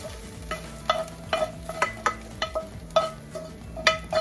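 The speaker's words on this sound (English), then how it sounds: "now we're gonna take them and we're gonna mix them into our tomatoes" Softened fried eggplant being stirred into tomatoes in a pan: repeated rhythmic scraping and clattering spoon strokes over a soft sizzle, close and loud, with no voices.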